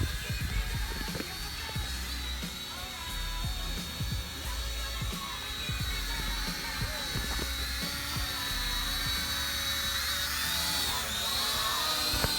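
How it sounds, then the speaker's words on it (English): A Drone X Pro quadcopter flies with a steady high-pitched propeller whine that rises slightly toward the end, over intermittent low wind buffeting and rustling thumps. "this is the Drone X Pro"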